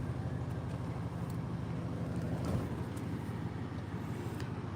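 A steady low engine rumble idles continuously at moderate level, with faint background noise and no talking.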